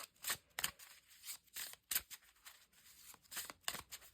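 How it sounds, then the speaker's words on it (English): A deck of prompt cards is shuffled up close, making quiet, papery riffling bursts that come in short irregular rounds with brief pauses between them. "this week I will shuffle first and then find a page."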